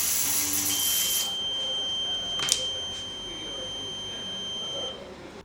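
A reconditioned smoke detector head sounding its alarm during a function test: steady high-pitched electronic tones hold throughout, with a brief sharper chirp near the middle, fairly loud and alone without talk.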